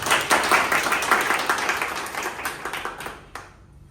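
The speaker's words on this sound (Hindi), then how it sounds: "Dr. Aparna के स्वागत के लिए जोरदार तालियां" A hall audience claps warmly to welcome a visiting doctor at an eye hospital training event, dense and loud at first, then thinning and fading toward the end.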